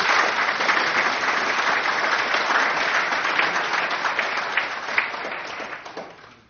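Audience applause for a panel of Maryland cabinet secretaries, a full, steady roar of clapping that holds for several seconds and gradually tapers off at the end.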